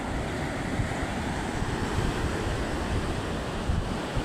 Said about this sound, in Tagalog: Malakas pang hangin, may alon pa.